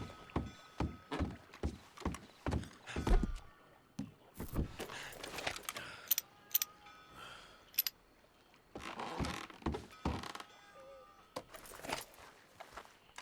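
Horse hooves in Red Dead Redemption II, a run of distinct, fairly close thuds in uneven clusters separated by quieter gaps, with no talk.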